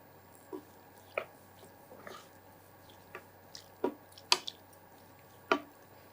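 Cooked moong dal goes into a pot in a series of soft, wet plops and squishy spoon dabs, several short, separate sounds, close and quiet against a faint background hum.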